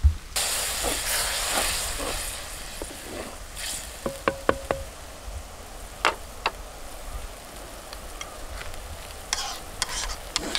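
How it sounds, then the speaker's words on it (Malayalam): Tender coconut water heating to a boil in a pan for a curry, giving a steady hiss and simmer with scattered clinks and stirring taps, close and alone without any talk. "നന്നായിട്ട് തിളച്ചിട്ടുണ്ട്."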